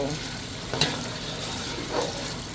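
Tomato stew for Nigerian tomato sauce frying in a pan, a low steady sizzle with a couple of brief stirring scrapes, close by and without talk.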